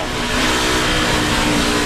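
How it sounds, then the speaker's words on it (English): A loud, roaring NASCAR race car engine at the 2009 Sam's Town 300 fills the clip, a dense continuous drone close up with no pauses. "You can hear Brad was already out of the throttle"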